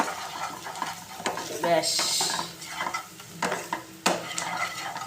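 Spoon scraping and stirring turmeric, chilli and coriander powder in a frying pan, irregular clinks and scrapes over a soft sizzle, close by, with a brief spoken word.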